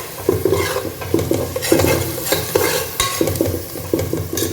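Ingredients for Ambur mutton biryani sauté in a pot: loud, close, rhythmic scraping stirs over a continuous frying sizzle, with no speech.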